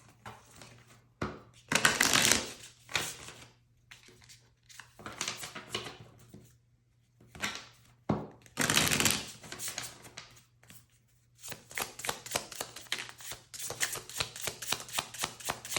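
Tarot cards are shuffled and riffled close by in bursts of papery flutter and snapping, with pauses between, ending in a longer run of rapid card riffling.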